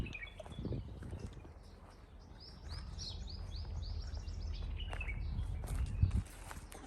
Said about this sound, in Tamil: குருவி சத்தம்